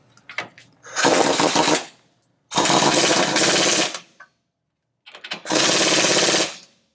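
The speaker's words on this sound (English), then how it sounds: "I'm going to use the impact to get it most of the way tight." An impact wrench tightens the lower ball joint nut on a 2002 Toyota Tacoma in three loud, close, rattling hammering bursts, each lasting about a second, separated by short silent pauses.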